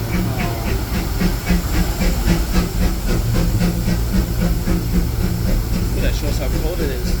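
Steam hissing from the E.P. Ripley 2 steam locomotive on the Disneyland Railroad on a cold morning, a steady broadband hiss with rhythmic chuffing and rail rumble underneath, loud and continuous throughout.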